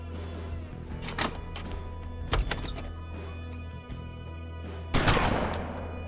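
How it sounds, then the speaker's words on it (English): Gunfire in the Western-themed PC game Hard West: several scattered shots and impacts over faint game ambience, with a louder burst near the end and no talk. "He's gonna shoot me. Right in the back."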